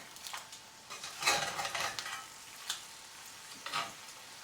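Eggs fry in individual sections of a cast iron pan with a soft, steady sizzle, broken by a few sharp scrapes and clinks of a spatula as they are flipped.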